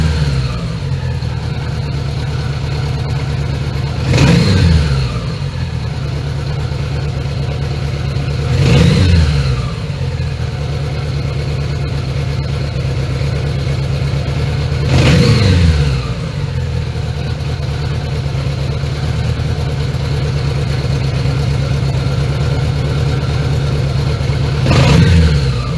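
Honda Goldwing GL1100 motorcycle engine idling steadily with a low, rumbling hum during a carburetor sync, rising in four brief revs spaced several seconds apart, loud and close with no talking.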